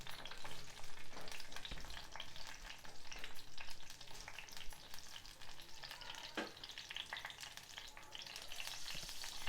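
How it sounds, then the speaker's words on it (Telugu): Split green chillies fry in hot oil in a pan, a continuous, close crackling sizzle with irregular pops and a few stirring scrapes, fairly quiet overall. "పచ్చిమిర్చి కొంచెం వేగనివ్వాలి"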